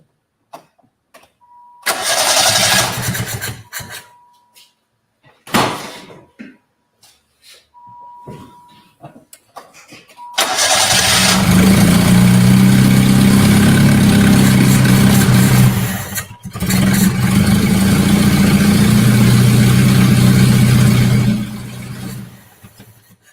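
A Yugo's engine cranks in several short attempts, then fires and settles into a loud, steady idle heard up close for around ten seconds, briefly cuts, then runs again without anyone speaking.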